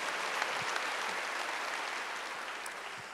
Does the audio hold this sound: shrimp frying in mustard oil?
no